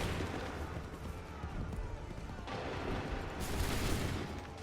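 Musket volleys roll through a battle in the video game Assassin's Creed III, a dense rumbling fusillade with a fresh burst of crackling shots partway through, sustained and moderately distant.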